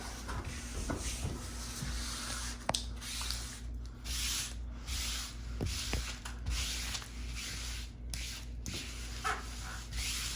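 A damp cloth and eraser rubbed across a wall mural's surface, making a soft, steady scrubbing and swishing close by with faint hiss and small squishes, and a low constant hum beneath.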